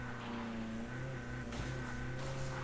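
A car driven across the map in Call of Duty Mobile, a steady engine drone with a constant hum, quiet and continuous, with a brief rise near the middle.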